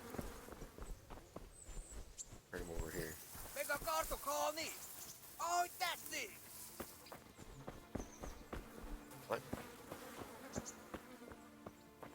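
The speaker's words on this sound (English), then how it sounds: "I heard bees and stuff like there, or flies." Buzzing insects, bees or flies, drone in the game Kingdom Come: Deliverance near something dead, an irregular, wavering buzz mixed with soft footsteps while someone talks over it.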